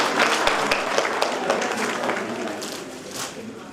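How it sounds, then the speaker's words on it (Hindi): Applause from a gathering at a women's event, honoring Shashi Chugh: individual sharp claps stand out at first, then blend into a moderate, steady round that gradually thins out. "शशि चुग मैम के लिए जोरदार तालियां।"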